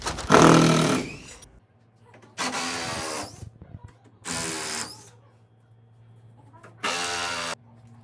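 A power drill backs screws out of the crossbeam supports on a wooden crate holding a Mahr PLM600-E machine, in four loud whirring bursts of about a second each separated by quiet pauses with light clatter.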